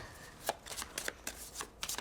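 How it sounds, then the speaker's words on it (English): Playing cards for a Pandemic Legacy Season 0 board game being shuffled, a run of crisp riffling bursts and taps spaced unevenly over two seconds, close and fairly quiet, with no voices. "We added them, shuffled,"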